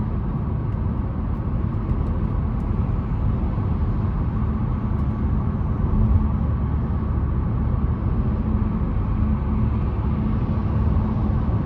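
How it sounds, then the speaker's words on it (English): Steady broadband road and tire rumble inside a 2025 Buick Encore GX Preferred small SUV cruising, a constant low drone with mild hiss, no talk. "the road noise in this thing is pretty decent as well"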